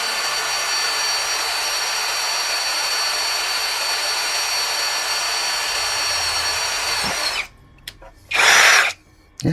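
An HL 812 V2 16V cordless impact drill runs at high speed, a loud steady whine close by that stops abruptly near the end, followed by a short second burst.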